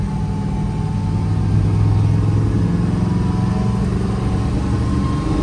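Drag car engine with a new clutch idles and hums at a steady mid-pitched drone, rising slightly in strength partway through as it drops into gear, close and continuous without speech.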